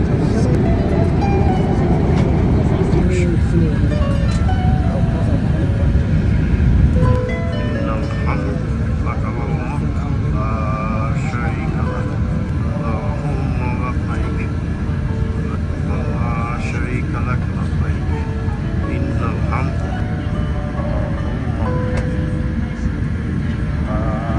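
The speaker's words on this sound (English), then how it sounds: "The flight is going from Doha to Jeddah." A steady, dense roar fills an airplane cabin in flight from Doha to Jeddah, a constant low rumble and whoosh that persists throughout, with people talking over it.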